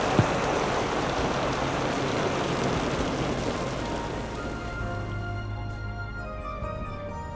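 Steady heavy rain at midnight pours down as a dense, continuous wash of drops with no pauses, close and fairly loud throughout; no voices are heard.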